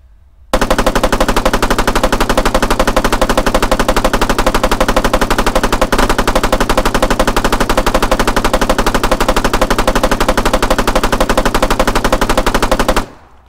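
Sustained automatic fire from a Spar 16s 5.56mm rifle in the video game Arma 3, a rapid unbroken stream of loud shots lasting over twelve seconds, alone and close.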